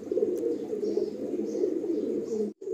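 Pigeons coo softly in a low, rolling murmur, continuous and fairly close, with no talk over it.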